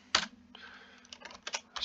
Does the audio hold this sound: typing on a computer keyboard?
yes